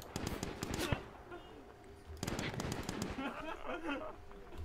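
Machine gun fire in a video game rings out in rapid, loud bursts: a dense volley at the start, a pause, then a second long stretch of sustained shooting.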